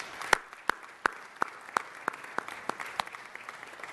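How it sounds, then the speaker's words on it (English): Faint applause at a city council meeting: evenly spaced, separate claps in a steady rhythm, a little distant, with no voices over them. "Let's give Armin a round of applause"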